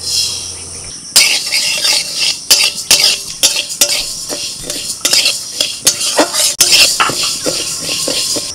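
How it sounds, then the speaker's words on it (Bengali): Dry mung dal rattles and scrapes against a dry metal wok as it is stirred and roasted, with repeated sharp clinks of a utensil on the wok in an irregular rhythm. "মুগের ডাল ভেজে নিচ্ছি শুকনো কড়াইতে।"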